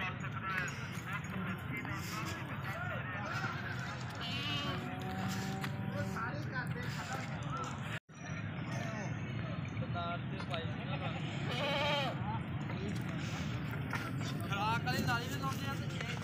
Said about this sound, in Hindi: बहुत अच्छी बकरी है।